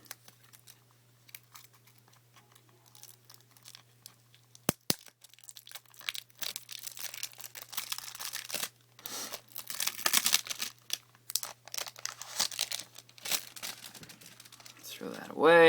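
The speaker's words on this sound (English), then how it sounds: "Open the plastic here." Plastic wrap crinkling and tearing as it is pulled off a tight Nintendo 3DS game case, close and busy crackles that grow denser toward the end.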